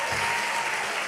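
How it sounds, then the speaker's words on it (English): A church congregation claps for about a second, with dense, steady applause filling the room and no break. "Clap for him."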